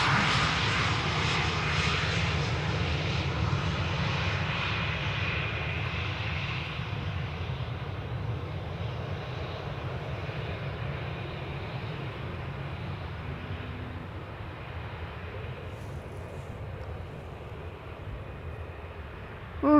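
An airliner arrives at Amsterdam Schiphol Airport, a loud jet engine roar that slowly fades as the aircraft passes, heard alone from a moderate distance.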